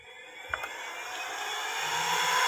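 A blower on an oil-fueled stove burning used oil runs as a steady broadband whir that slowly grows louder, with a couple of brief knocks near the start and no voices.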